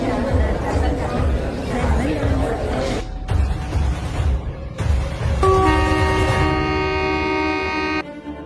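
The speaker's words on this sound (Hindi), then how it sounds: "ये ट्रेन ऑटोमेटिक चल रही है।" Rumble and clatter of a driverless train running on its own, with crowd chatter throughout and a sustained horn-like tone sounding near the end.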